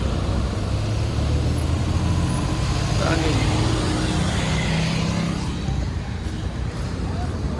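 A 4x4 John Deere tractor drones loudly and steadily as it pulls a 16-foot trolley loaded with sugarcane, its engine a constant close rumble with voices faintly mixed in.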